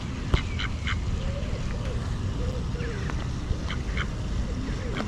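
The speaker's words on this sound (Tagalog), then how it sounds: "Ito yung wild duck, eh." Wild ducks quack a few times at a small island zoo, the calls faint and scattered over a steady outdoor rumble and wind, with people talking nearby.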